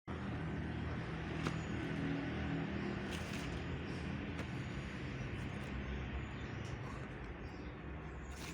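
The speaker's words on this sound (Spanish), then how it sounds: "Aquí a la derecha está el estacionamiento, por esa razón es que se escuchan sutilmente los carros." Cars in a parking lot beside a museum house in a park produce a soft, continuous low rumble of traffic, steady throughout with no distinct passes and no talk.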